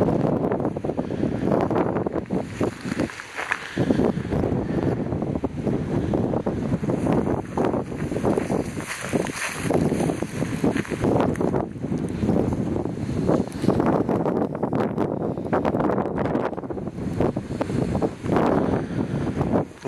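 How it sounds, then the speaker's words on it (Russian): Cold wind blows hard outdoors by the Don River, roaring and buffeting the microphone in continuous gusts with no pauses. "очень холодный ветер сегодня"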